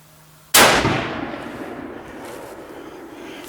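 A single sharp rifle shot from a Savage 99C chambered in .284 Winchester cracks loudly at close range outdoors, then its echo rolls away slowly over the next few seconds.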